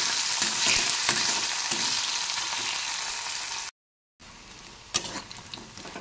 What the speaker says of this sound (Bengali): সুন্দরভাবে লাল লাল করে নেড়ে চেড়ে একটু